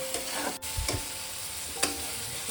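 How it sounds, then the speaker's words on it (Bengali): Garlic and ginger paste frying and being stirred in a pan for a shrimp and fig curry, giving a steady close sizzle with a few soft scraping strokes and light clicks throughout. "নিয়ে মশলাটাকে আমি আবারও মিনিট 2-3 ভালো করে কষিয়ে নেব।"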